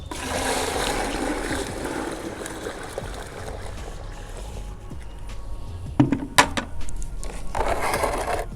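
About ten litres of water poured into a container to mix a plant fertilizer with moong dal, a continuous splashing trickle with some knocks and clatter of the vessel partway through, close by and without talk.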